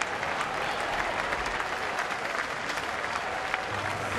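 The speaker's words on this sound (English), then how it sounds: "Fans giving him a round of applause because he just fought tooth and nail" Baseball crowd at a Houston at Pittsburgh game applauding in a steady, dense wash of clapping that holds evenly throughout, with no voices standing out.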